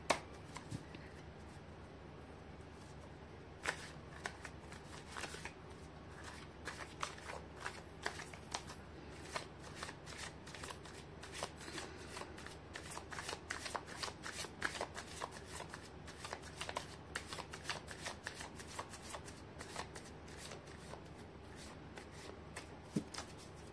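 Tarot cards shuffled steadily for the whole stretch, a dense run of crisp riffling snaps and slides close to the listener, with no talking.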